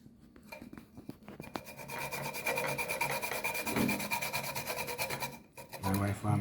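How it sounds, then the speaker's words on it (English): Whole nutmeg scraped against a metal grater in a home kitchen, a rapid rhythmic series of close raspy strokes that builds into a steady scratching run, pausing briefly near the end before resuming. "So you want to grate the nutmeg for me?"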